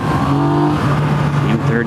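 A 2017 Yamaha FZ09 motorcycle's engine pulls hard as the rider shifts into third gear, a loud, rising engine note heard up close while riding.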